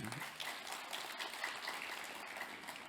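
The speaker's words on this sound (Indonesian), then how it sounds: "Tepuk tangan buat Pak Ganjar" An audience at a research lecture applauds for presidential candidate Ganjar Pranowo, a dense steady wash of clapping heard from a distance, fairly faint and continuous.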